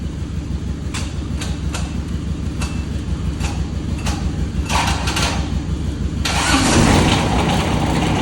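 A Cessna 172 engine with a weak battery or faulty starter cranks in a steady laboring drone under sharp clicks, then catches and roars louder near the end.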